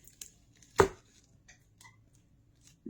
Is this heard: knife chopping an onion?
yes